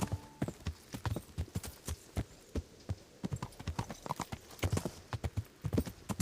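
Hooves clip-clop in a quick, even rhythm as a horse is ridden in Kingdom Come: Deliverance, close and distinct, with sharp repeated strikes running throughout and no talking.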